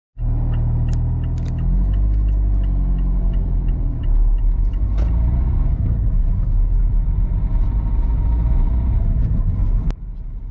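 A car engine rumbles steadily from inside the vehicle as it drives around rural Norfolk, a loud low drone with faint rattles, running continuously with no talk before cutting off near the end.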